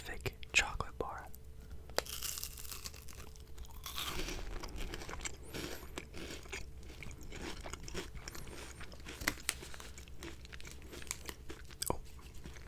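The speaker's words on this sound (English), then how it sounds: "you get that sort of a crispy, well, I think it's like a waffle wafer, whatever is in the middle of the Kit Kat bar" Crunchy chewing of a Kit Kat chocolate bar with its crisp wafer centre, heard up close as soft, irregular bites and crackles over a low background hum.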